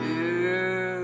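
A voice imitates a big brown cow mooing in a children's farm song, one sustained, loud, close low moo held for about a second.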